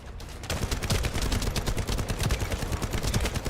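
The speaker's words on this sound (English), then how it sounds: "the gunshots sound good, the feedback is good" Rapid automatic gunfire from the shooter video game The First Descendant, a dense, continuous stream of sharp cracks with no pauses, loud and close.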